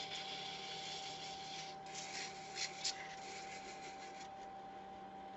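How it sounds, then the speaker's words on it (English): Sandpaper rubbing against a small wooden bird Christmas ornament spinning on a lathe, working through different grits; a steady, close rasping hiss with a constant machine whine underneath and a couple of brief scrapes near the middle. "Now I can go ahead and go through the different grits to sand this off if I really wanted to make it smooth"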